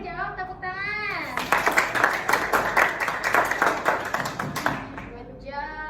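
Classroom of children applauding a student who answered a question, a burst of rapid close hand claps lasting several seconds, with a teacher's voice speaking just before and after.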